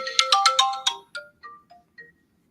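Mobile phone ringtone for an unknown caller: a rapid bright run of electronic notes, then a few sparser tones that stop, loud and close.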